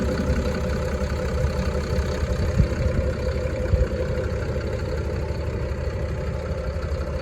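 A New Holland T7.315 tractor engine idles steadily with the bonnet open, a continuous mid-to-low mechanical drone with a faint knock, close and even throughout with no talking.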